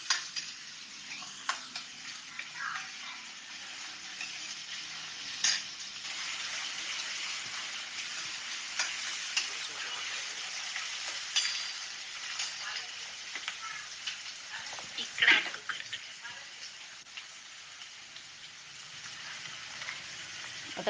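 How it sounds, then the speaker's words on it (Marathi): Chopped onion sautés in hot oil for pav bhaji, a soft, steady sizzle with occasional scrapes and stirs of a spoon in the pan, fairly quiet and continuous. "हा कांदा आहे आपल्याला असं मस्त मऊ होईपर्यंत छान परतून घ्यायचा आहे"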